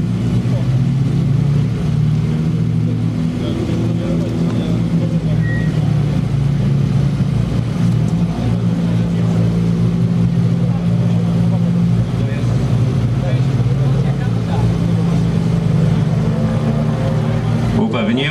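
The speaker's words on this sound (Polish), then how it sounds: "A numer 58 to Ford Fiesta, prowadzony przez Michała Kozłowskiego." A Ford Fiesta R2 rally car at Rajd Śląska 2020 drives past with a loud, steady engine roar lasting throughout, holding a sustained drone with slight shifts in pitch.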